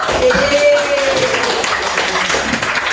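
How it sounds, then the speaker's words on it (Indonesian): Classroom applause for a student after an anti-bullying lesson, a loud, dense wash of children's clapping that holds steady, with a voice briefly heard over it. "tepuk tangan untuk Otto"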